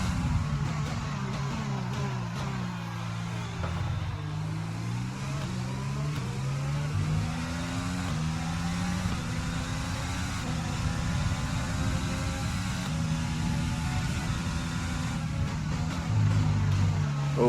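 F1 car engine in the F1 2020 game, racing around the Bahrain circuit, with a steady loud engine drone that rises and falls in pitch through acceleration and braking for corners, continuous throughout.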